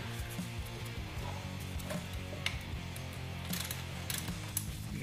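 Ratchet clicking while loosening a 13 mm bolt during engine removal on a Porsche Boxster S 986, faint quick ticking over a low steady hum, with a few sharper metallic clicks and no speech.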